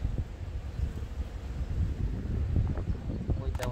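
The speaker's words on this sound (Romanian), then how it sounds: "Vântul ăsta nu ne ajută deloc." Gusty wind rumbles against the microphone outdoors beside beehives, a loud, continuous low buffeting with no pauses.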